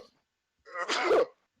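A single short sneeze, fairly loud and close, after a moment of quiet.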